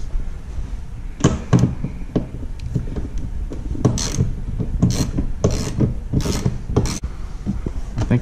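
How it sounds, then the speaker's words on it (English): Ratchet with an extension and a 10mm socket loosening three nuts during a car spoiler extension install, bursts of quick clicking pawl ticks close by, intermittent with short pauses and light handling noises between. "Use a ratchet with extension, 10mm socket. Remove the 3 nuts."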